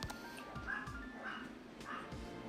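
A pet dog barks and whimpers faintly in the background, a few short high yips spread across a low steady noise floor.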